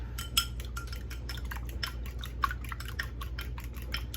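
Eggs are beaten in a bowl for banana bread, a quick steady run of metal utensil taps and clinks against the bowl, close and rhythmic over a low background hum, with no talking.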